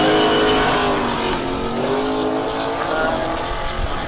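A Chevy Nova drag racing car with an 8.8-litre engine runs down the strip at a York raceway, its loud sustained engine roar steady and close throughout, rising slightly in pitch as it travels.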